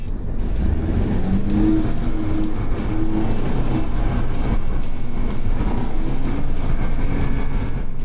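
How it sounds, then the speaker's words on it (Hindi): A Mini Cooper S on the move, its engine and road roar steady and loud from inside the car, with a faint turbo blow-off hiss barely standing out from the drone. "इसका जो ब्लो ऑफ वाल्व का आवाज़ है, जो हिसिंग नॉइज है, सिर्फ वही आता है"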